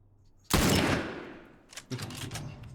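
Gunfire from The Last of Us video game: one loud, sharp blast with a long reverberant tail, then a cluster of quicker, smaller shots, all without voices.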